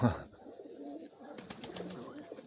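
Pigeons coo softly inside a loft, a string of low murmuring calls with a louder burst at the start and scattered faint chirps later.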